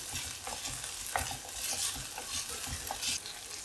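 Ginger and green chillies sauté in a pan for a mango curry, giving a steady close sizzle broken by intermittent scraping stirs, with no talking.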